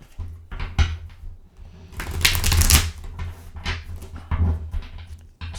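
Tarot cards are shuffled by hand in several quick riffling bursts, with one longer, louder flurry in the middle and brief pauses between.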